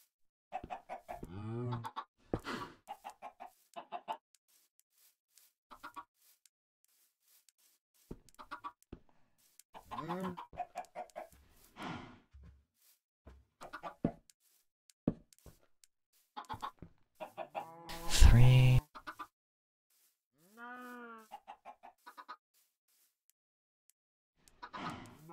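Chickens in the Minecraft video game cluck in short bursts throughout, separated by quiet gaps, with one louder, longer squawk near the end; no talking.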